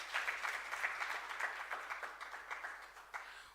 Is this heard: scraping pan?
no